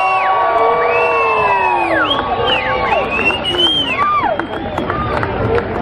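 A big crowd at an outdoor rock concert screams and cheers nonstop, loud and close, with shrill whoops and whistles rising above the roar.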